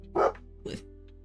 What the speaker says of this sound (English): Should I be concerned at whatever you're barking at?